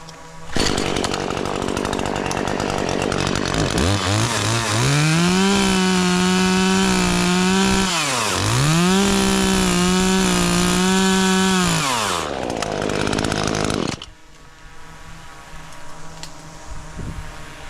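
A chainsaw cuts a branch with a handheld step cut during a rope-and-harness assessment. The engine is loud and close, revving up into long sustained cutting whines with a brief dip in the middle, then drops to idle and ambient noise.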